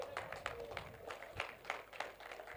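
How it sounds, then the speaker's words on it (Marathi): Audience clapping at a prize ceremony for a local tournament, a steady patter of hands with a few sharper claps standing out, moderately distant and fairly quiet throughout. "टाळ्या होऊ जाऊ देत मित्रांनो।"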